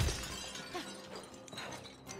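An already broken pot is smashed, a short shattering crash followed by scattered clinks and rattles of fragments settling, fairly close with no talking.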